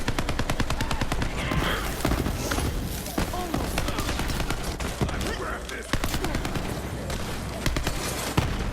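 Rapid, continuous bursts of gunfire from a shock-damage weapon in Borderlands 3, loud and dense with sharp repeated shots and occasional booms, and a voice talking over the shooting.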